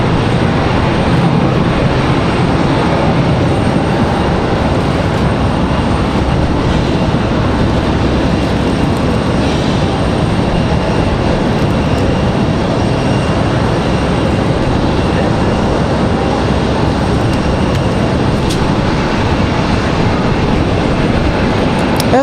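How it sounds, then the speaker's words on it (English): Breeze Airlines Airbus A220 heading out at Raleigh-Durham airport, a steady, loud, unbroken engine roar with broad rumble and hiss that holds constant throughout, no voices over it. "As we got a Breeze A220"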